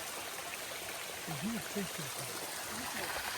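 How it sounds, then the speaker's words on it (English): Cold mountain stream on the Appalachian Trail, water flowing steadily as a constant broadband rush, with a voice talking briefly over it. "Pretty nice cold water coming down from the mountain."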